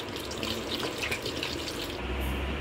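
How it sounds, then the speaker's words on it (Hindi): Water poured from a bottle into a cooking pot, a steady continuous splashing gush that runs throughout and deepens toward the end as the pot fills, close and alone without talk. "और यहाँ पे मैंने इसके अंदर कम से कम 1 लीटर पानी डाला है ये बोतल के हिसाब से।"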